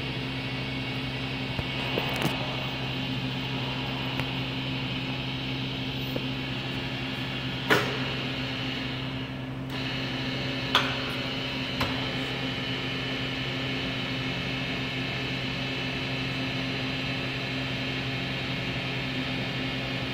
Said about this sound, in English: The arm is raising.